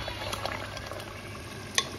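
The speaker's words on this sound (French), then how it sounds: "Je mets dans les tomates et je vais laisser mijoter au moins 2 minutes." Tomatoes cooking in a gumbo sauce with onions, peppers and celery, a soft continuous sizzle and bubbling in the pot, with a sharp clink of a utensil near the end.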